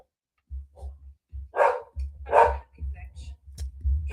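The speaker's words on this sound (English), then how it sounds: "My dog is going crazy, so just let me." A pet dog barks repeatedly indoors, with two loud, sharp barks in the middle, quieter yips around them and a low background hum throughout.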